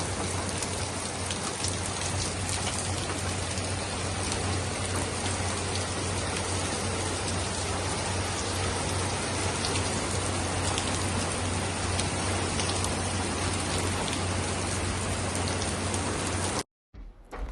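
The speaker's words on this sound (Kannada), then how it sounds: "ಬರ್ಬೋದು ಅಂತ ಎಣಿಸಲಿಲ್ಲ ಮಳೆ, ಬಂತು." Steady, dense rain falls continuously in the UAE, a close, even hiss of drops on surfaces with no voices, cutting out abruptly near the end.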